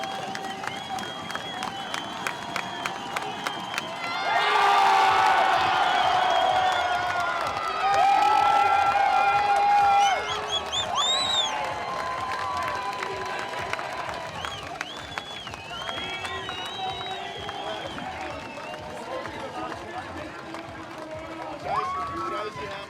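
A crowd cheers and roars as a local mountain bike rider crosses the finish line at Crankworx Cairns, the loud swell of shouting and clapping rising then easing under an excited commentator's talk.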